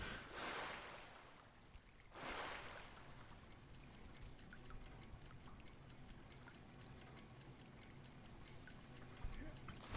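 Water splashes in A Difficult Game About Climbing, two loud surging bursts early on, then a steady churning, trickling wash that carries on to the end, with no talk.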